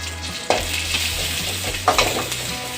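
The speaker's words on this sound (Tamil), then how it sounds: "அந்த பூண்டுமே பொன்னிறமாக வர வரைக்கும் நல்லா வறுத்து எடுத்துக்கோங்க" Crushed garlic fries in oil in a pan for a curry leaf powder, giving a loud, close sizzle with two distinct stirring scrapes and light metallic knocks.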